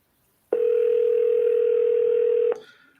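Outgoing cold call to a business, heard as one steady, loud ringback tone lasting about two seconds and then cutting off, with no talking.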